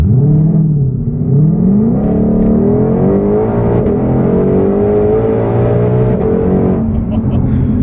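A 2020 Ford Shelby GT500 doing a burnout, its engine revving loud and close with rising and falling pitch sweeps and a harsh, sustained roar.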